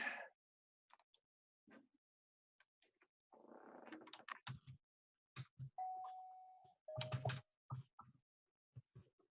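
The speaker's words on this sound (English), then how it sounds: "That's my doorbell ringing." An electronic doorbell chimes a couple of sustained tones amid scattered faint knocks and rustles in an otherwise quiet room.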